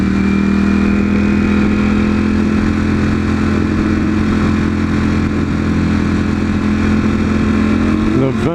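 A Lamborghini Aventador supercar's engine gives a loud, continuous droning roar with strong steady harmonics, holding a constant pitch before a brief rising sweep at the very end.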